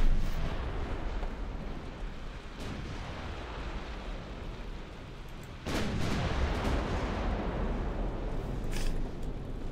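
Naval guns fire in the warship battle game Ultimate Admiral Dreadnoughts, rumbling booms blending into a dense, continuous roar of battle with a sharper, heavier salvo bursting in partway through.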